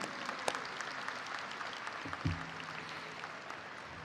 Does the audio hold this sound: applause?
yes